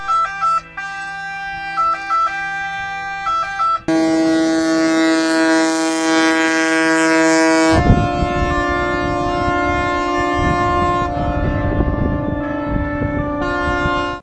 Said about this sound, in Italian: le sirene dei mezzi navali della Guardia Costiera e dell'Unità Mercantili sono state attivate all'unisono